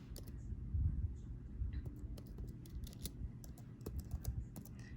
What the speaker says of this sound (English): typing with one hand, so please bear with me